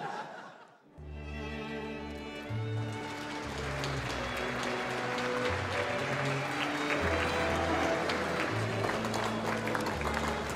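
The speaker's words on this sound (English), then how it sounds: "If, as they come to the bottom of the steps, you feel moved to spontaneous applause" Guests at an ambassadors' reception applaud while a choir and instruments perform loudly throughout, the clapping blended beneath strong sustained music and partly masked by it.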